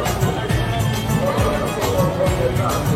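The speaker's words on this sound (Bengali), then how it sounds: "আর এখন ভিড়টা দেখো জাস্ট মারাত্মক লেভেলে ভিড়" A large festival crowd mills around a Kalyani Durga puja pandal, a dense, steady hubbub of many overlapping voices close by with faint cheering, continuous throughout.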